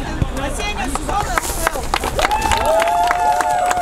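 Applause at a women's football league awards ceremony after a final, a crowd clapping and cheering with scattered whistles and voices, building steadily louder.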